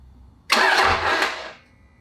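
A Dodge Ram Cummins 5.9 24-valve diesel engine is briefly bumped by its starter during valve adjustment, a short loud whirring burst lasting about a second before it cuts off.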